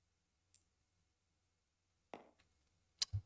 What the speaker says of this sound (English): Gathering the dice.